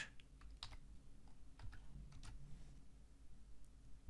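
Code being typed on a computer keyboard in a Colab notebook: a quiet run of uneven key clicks with short pauses, close-up over a low background hum, no voices.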